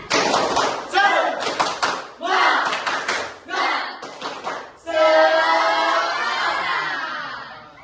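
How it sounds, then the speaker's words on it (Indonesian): Students in a classroom perform a rhythmic clapping chant, bursts of group clapping in patterned sets separated by short pauses, followed by a longer sustained round of clapping and voices at the end. "Oke, tepuk semangat."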